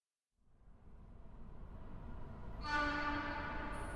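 Rumbling train carriage ambience from the video game Girls' Frontline fades in from silence and swells into a steady rolling hum, a brighter mechanical layer joining partway through, with no voices.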